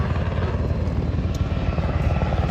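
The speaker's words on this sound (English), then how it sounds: "So helicopter is here, up there somewhere" A helicopter arriving to land at a utility line work site throbs loudly and steadily, rotor chop and engine roar filling the whole stretch with no talk.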